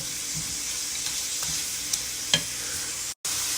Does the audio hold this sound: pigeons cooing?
no